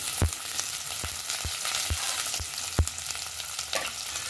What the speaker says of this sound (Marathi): थोडासा मी बारीक कांदा चिरलाय, तो कांदा पण त्यात टाकून घेतो